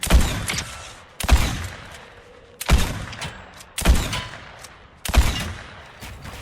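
Explosive repeater rifle fire in a Fortnite match, heard as five loud, evenly spaced booming blasts about every 1.3 seconds, each followed by a rumbling decay.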